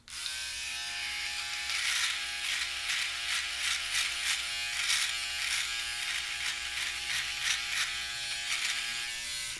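A Philips Norelco OneBlade electric trimmer runs on its 1 setting, giving a steady close-up electric buzz that pulses slightly as it moves through hair, with no talking.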